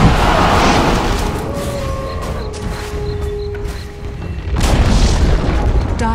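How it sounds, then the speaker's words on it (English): Dota 2 tower destruction in a ranked match, a heavy booming crash followed by rumbling debris and scattered in-game effect tones, then a second burst of rumble, all loud and dense. "Dire's bottom tower has fallen."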